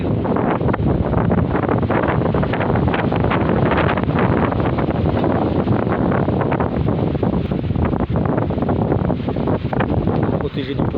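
Strong wind buffets the microphone in a loud, steady roar for the whole stretch, with a faint voice buried beneath the rumble.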